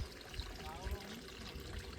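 Water from a motor-driven pump pours and trickles into a garlic field channel on a village farm, a faint, gurgling flow close by with a low rumble of wind or handling noise underneath.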